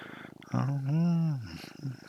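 A pet cat purrs softly while being held, with low pulsing purrs around a single drawn-out meow in the middle, close and fairly quiet.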